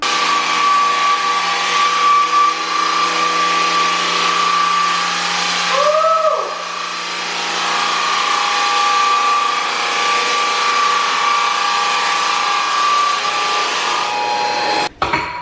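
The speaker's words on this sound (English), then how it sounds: "I have just sanded this entire room with 80 grit sandpaper." A loud, steady roaring drone from a drum sander running 80 grit sandpaper across a hardwood floor, close and continuous, ending with a brief knock.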